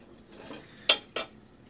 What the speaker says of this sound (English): we can heat the pan again and put oil inside